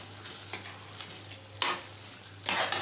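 A spoon stirs jaggery melting in a pan, making a low simmering sizzle with a few louder scraping sweeps near the end, close up and with no talking.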